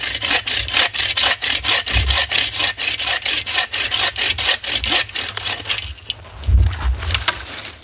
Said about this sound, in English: I'm just gonna saw off this piece here.